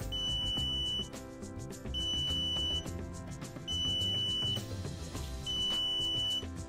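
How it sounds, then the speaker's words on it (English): A PendoTECH PressureMAT pressure monitor sounds its audible alarm: four evenly spaced, steady high beeps, each lasting about a second, over a constant background hum. "There is a visible and audible alarm."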